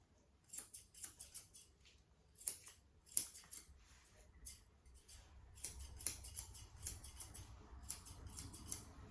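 Small Dracono grooming scissors snip around a dog's face in quick, close, crisp bursts of cutting clicks with short pauses between rounds.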